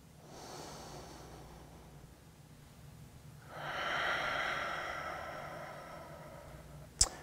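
During a restorative yoga session, a soft inhale is followed by a long, deep, breathy exhale heard close and quiet, ending with a brief sharp click.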